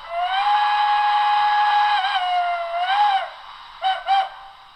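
Whistle number two of a Broadway Limited Blue Goose model locomotive sounds a long, loud steam whistle chord with slight pitch bends, then two short toots at the end.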